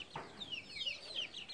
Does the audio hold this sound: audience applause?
no